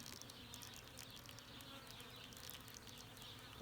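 A dense, steady buzz of many honeybees swarming close by at a feeder pail, continuous and fairly quiet, with no voices.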